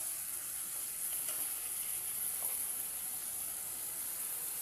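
Mustard-based spice mix frying with vegetables for a lote fish curry, a steady soft sizzle filling the whole stretch with faint stirring scrapes, no voices.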